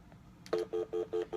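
Touch-tone dialing on a telephone placing a call to the Henderson Detention Center jail: five short, evenly spaced beeps in a quick regular rhythm, clear and close against a quiet background.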